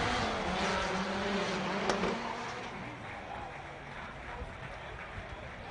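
Drift race cars run on the track at Evergreen Speedway, their engines roaring loud and then fading as they move away, with a commentator talking over them.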